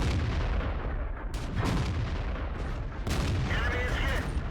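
In a World of Tanks battle, an AT-8 tank destroyer's gun fires two loud, heavy booms a couple of seconds apart, each trailing into a rumbling roar over constant engine and battle noise.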